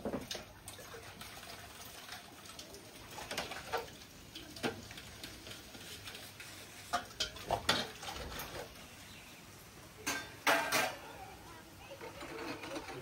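Dishes, pots and pans are washed by hand under running water, with quiet scattered clinks and knocks of metal and splashes at an irregular pace.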